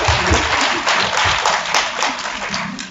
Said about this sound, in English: I think another round of applause for us.